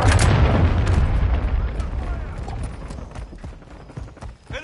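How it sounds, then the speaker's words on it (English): A cruise missile strike in the video game Modern Warfare II: a loud, deep rumbling blast at the start that rolls on as a long, slowly fading boom with scattered crackles. "Friendly cruise missile approaching target."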